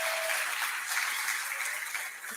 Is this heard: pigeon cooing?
no